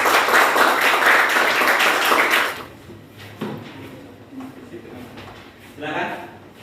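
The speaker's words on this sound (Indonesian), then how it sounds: "beri tepuk tangan untuk yang presentasi" A classroom claps for student presenters during a physics lesson on Archimedes' principle, a loud, full burst of many hands lasting over two seconds before cutting off, followed by quieter room noise and brief speech.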